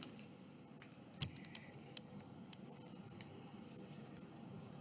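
Pen or pencil scratching on paper while a question is written down in a classroom, with soft intermittent strokes and taps close by against a quiet room background.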